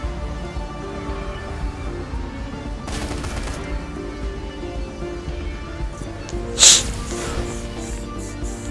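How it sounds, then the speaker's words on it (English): A firefight in the tactical role-playing game Shadowrun: Hong Kong, with scattered gunshots over a steady game backdrop and one sharper, louder blast near the end. "Oh boy, we're taking heavy fire here."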